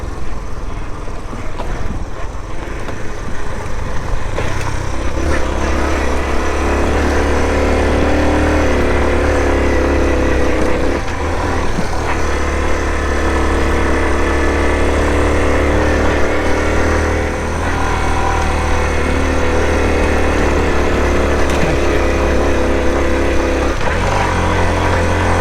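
A Honda CT110 Trail motorcycle engine drones steadily while riding out through woods toward the Marlborough Downs, a continuous loud hum with slight rises and dips and wind noise over it throughout.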